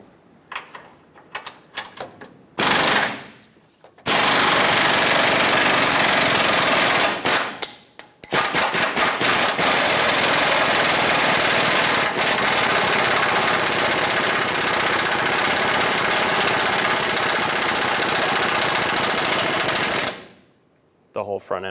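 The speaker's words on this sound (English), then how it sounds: "I can probably put my impact with a swivel back on it and remove it the rest of the way" An impact wrench fitted with a swivel hammers at a track bar bolt on a 2003-2009 Dodge Ram 2500, loud close-up bursts of rapid rattling with short pauses, then one long sustained run lasting over ten seconds.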